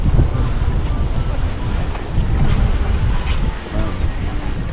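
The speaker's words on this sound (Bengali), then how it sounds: "দেখতেই পাচ্ছ সমুদ্র পুরো উত্তাল," Rough, churning sea at Digha beach in the early morning, loud continuous surf crashing close by with gusting wind buffeting the microphone and a few faint voices in the roar.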